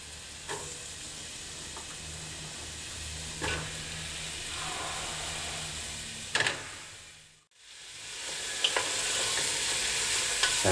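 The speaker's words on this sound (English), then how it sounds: "Now we're going to add our vegetables in. Basically just toss them all in." Vegetables sautéing in garlic-infused olive oil in a saucepan for a vegetable soup, a soft steady sizzle with occasional stirring scrapes and a brief dip partway through, no talking.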